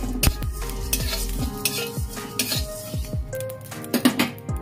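Whole fennel, cumin and fenugreek seeds being stirred in a pan without oil for a mango and jujube pickle, a dry crackle under repeated metal spoon scrapes and clinks against the pan at an irregular rhythm, close and fairly loud.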